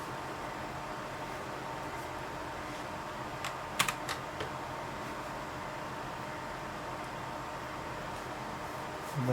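Keys pressed on a Commodore Amiga keyboard during an A3640 reset test: a few soft clicks and one sharper cluster of keystrokes midway, fairly faint over a constant fan-like background hum.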